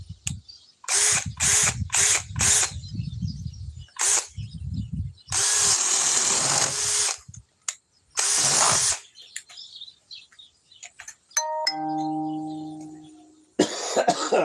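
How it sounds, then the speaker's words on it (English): A DeWalt 794 power tool running on a 4-amp battery pack, whirring loudly and close in a series of short repeated bursts and a few longer runs, with brief quiet gaps between them. "let's go on to the DeWalt 794 with a 4-amp power pack"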